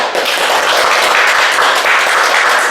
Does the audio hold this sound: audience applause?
yes